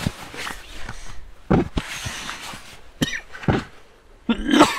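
Several sharp, close coughs at a -29°C winter campsite in Spiti Valley come in short bursts, separated by quiet pauses, with a final harsher fit at the end.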